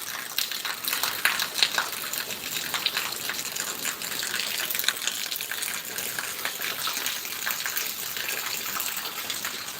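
Steady, dense rain hiss pours down continuously on a Punjab village, with scattered sharper patters and drips ticking through the wash of sound, no voices.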